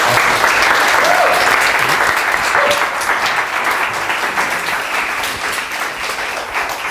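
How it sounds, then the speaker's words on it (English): Loud, sustained audience applause at a coding bootcamp demo day, dense continuous clapping that holds strong throughout and eases slightly toward the end. "Maybe we can give them a round of applause."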